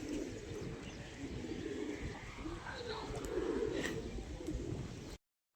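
Pigeons cooing softly in a home loft, low murmuring coos under a steady background, with people talking nearby.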